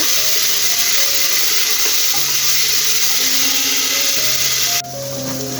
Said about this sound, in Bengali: এখন সুন্দর করে এগুলো ভাজা ভাজা করে নেব